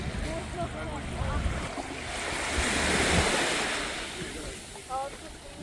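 Gentle, calm sea waves lapping and washing along a shore at Odesa, soft and steady, with light wind noise and occasional faint voices in the background.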